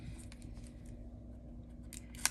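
Scissors cutting small pieces of paper for a stamped papercraft project: a series of soft, quick snips close by, ending in one sharper, crisp cut.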